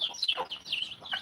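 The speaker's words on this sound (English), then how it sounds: "We have other hens here." Hens cluck and chirp softly in a backyard garden at feeding time, a few quick close calls in a brief burst.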